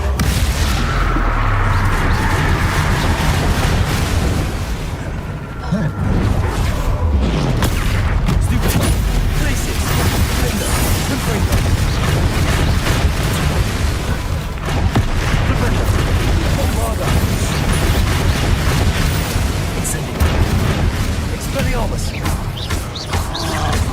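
A Bombarda explosion spell in Hogwarts Legacy sets off a loud, sustained wall of booming blasts and rumbling debris that runs continuously for the whole stretch, with scattered crashes layered on top.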